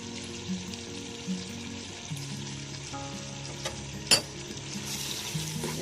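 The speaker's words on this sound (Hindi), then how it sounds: "ये सोया सॉस डालने लगी मैं, और ये केचप भी डाल रही हूँ।" Soy sauce and ketchup hitting a hot pan of chicken and vegetable macaroni, giving a steady close sizzle with light scraping and stirring clinks, one sharper clatter midway.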